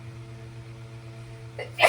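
A single sneeze, short and fairly loud, bursting out at the end after a low background hum; a person nearby in a podcast-style setting.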